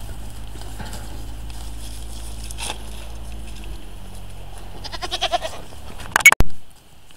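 Alpine goats on a farm at the end of mating season let out a short run of bleats near the end, over a steady low hum, followed by a sharp loud clatter.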